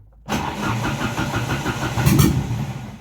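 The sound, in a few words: Opel Calibra engine being started for the first time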